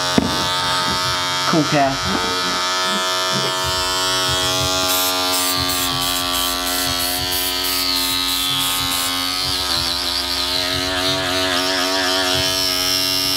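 US Pro cordless hair clippers buzz steadily and close throughout, a continuous tonal motor hum while a person speaks briefly over it.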